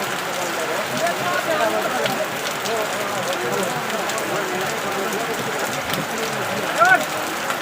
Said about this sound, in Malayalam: ഇപ്പം പെരുമഴ കേട്ടോ, ഗംഭീര മഴ.